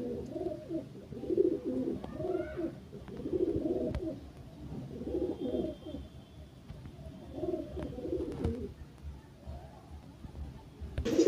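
Pigeons coo in repeated low throaty bursts, close and fairly soft, over a faint room hum with a brief high chirp near the end.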